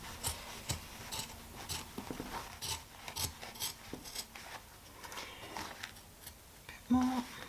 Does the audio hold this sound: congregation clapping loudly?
no